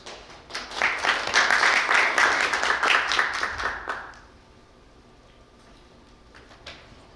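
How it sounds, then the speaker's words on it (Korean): Conference audience applauds to welcome a speaker at a media and information literacy event, a dense burst of clapping for about four seconds that quickly fades to quiet room tone. "따뜻한 박수로 맞아주세요."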